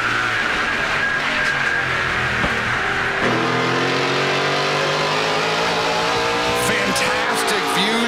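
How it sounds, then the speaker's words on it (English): Stock cars in the 2018 NASCAR Pinty's Series Bumper to Bumper 300 race on track, engines roaring loud and continuous with rising and falling pitch as they accelerate, a voice sometimes heard over them. "Fantastic sounds in the NASCAR Pinty series."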